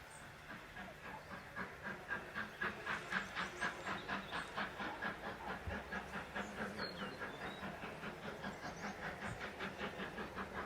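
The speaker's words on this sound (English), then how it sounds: "63395 is hauling the demonstration freight train, passing Goathling station once again." LNER steam locomotive 63395 chuffs in a steady, rhythmic beat with hissing steam as it hauls a demonstration freight train past Goathland station, loud and fairly close throughout, heard from trackside.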